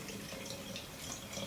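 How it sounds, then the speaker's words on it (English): Indigo-tinted water poured in a steady, continuous stream, splashing and trickling into a container, close and moderately faint, with no voices. "You're just going to take your indigo water and you're going to pour this."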